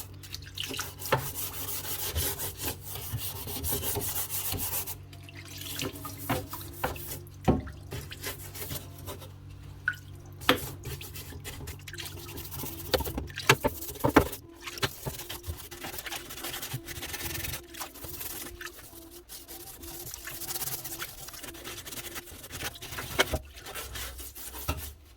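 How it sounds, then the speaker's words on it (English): Rags scrub and wipe inside a metal parts washer, splashing old cleaning fluid in a long run of rubbing, sloshing and dripping punctuated by occasional knocks and clinks, close by. "I normally just give it a wee wipe down, just with the old fluid"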